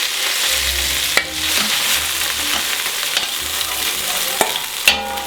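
Beef browning in a pan for Boeuf à la Provençale, with a steady close sizzle and scattered clicks and scrapes as the meat is stirred.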